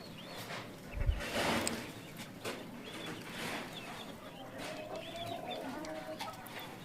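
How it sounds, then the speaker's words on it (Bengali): A Bahama hen on a small home poultry farm clucks softly with other fowl, scattered low clucks and rustling over faint farmyard background noise, with no one talking. "আর এই যে আমার নতুন বাহামার মুরগিটা দেখেন কোন জায়গায় গিয়া ডিমের জন্য পড়ছে।"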